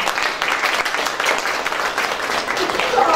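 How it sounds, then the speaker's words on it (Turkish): Audience applause honoring parents of premature babies at a Turkish gathering, a steady dense wash of clapping lasting the full few seconds, with voices faintly mixed underneath. "Ben sizlere bir alkış rica ediyorum."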